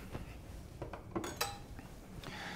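Kitchen utensils clinking as a bigger knife is taken out, a few light metallic taps and one sharp clink, quiet and close with no voices.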